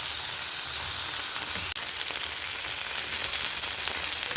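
Marinated pork meat fries in a pan, a steady bright sizzle and crackle close up, with a single sharp tap partway through.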